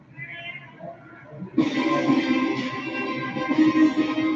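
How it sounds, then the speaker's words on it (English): A cat meows, a faint short mew followed by a loud, drawn-out, wavering meow that carries on to the end, with no talking. "Whose cat is that?"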